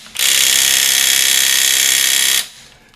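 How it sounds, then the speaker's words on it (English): A small impact wrench with a 19mm socket hammers away on a 2013 Chevy Avalanche LT Black Diamond during front brake work, giving one loud continuous rattling burst of about two seconds that cuts off sharply. "Let's see if this small impact wrench will have what it takes."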